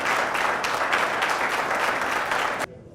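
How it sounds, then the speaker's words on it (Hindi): Loud, dense applause from a church congregation, steady throughout and then cutting off abruptly. "क्यों ना जोर से ताली हो जाए"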